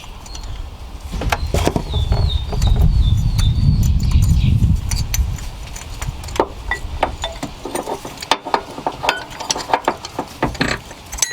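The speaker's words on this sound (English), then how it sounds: "We're gonna go ahead and remove that nut and remove the pulley entirely so that we can get to the bottom alternator bolt." A ratchet working the 14 mm pulley nut on a 1999-2003 Nissan Maxima with the VQ35DE engine during alternator replacement: a rattling whir early, then a run of sharp metallic clicks and clanks, close and fairly loud.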